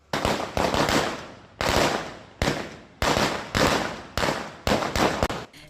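Firecrackers set off by political party supporters celebrating in Vavuniya, Sri Lanka: several loud crackling bursts of rapid pops, each ending in a decaying tail, separated by brief gaps, close and with no talk.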